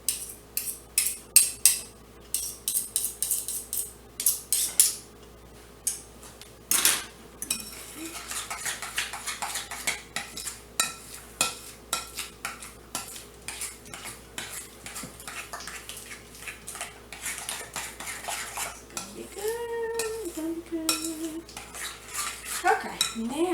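Spoon and fork clatter against a metal pot while a smoked sausage, zucchini and macaroni casserole is stirred, giving a run of close, irregular scraping clinks, busiest early on, with faint background noise and a brief squeal near the end.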